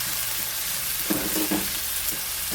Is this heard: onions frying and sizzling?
yes